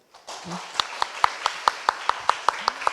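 Audience members at a lecture clap in a slow, rhythmic unison, about a dozen crisp beats at a steady tempo following a brief murmur of talk, growing a little louder at first.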